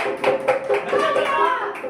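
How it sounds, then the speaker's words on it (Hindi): A small group claps in rhythmic, slightly uneven bursts during a rehearsal for a voter-awareness street play, and a voice is heard talking over the applause. "एक बार जोरदार ताली मारिए"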